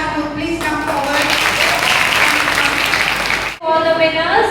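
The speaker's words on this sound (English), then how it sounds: "give a huge round of applause to our leaders." An audience at a school leadership selection event applauds student leaders with steady, dense clapping under a loud, tonal voice speaking over it. The sound cuts out briefly near the end, then the clapping and voice resume.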